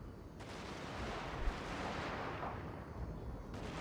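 Line infantry volley fire in the strategy game Total War: Shogun 2, a dense continuous rumble of distant massed musketry with a sharper crack near the middle, no voices on top.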